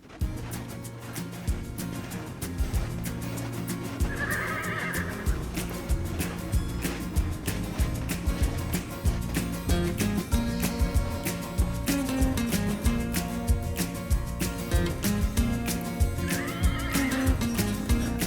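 Carpathian horses whinnying twice at a distance, each neigh short and high, heard over a loud continuous bed of music.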